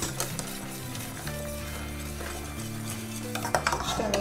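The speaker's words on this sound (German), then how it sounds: "Das Ganze geben wir jetzt in den Topf zur restlichen Milch und verrühren auch das wieder gründlich" A custard mixture stirred into milk in a pot, with a utensil scraping and clinking against the sides in a steady rhythm beneath a low background hum, no talking.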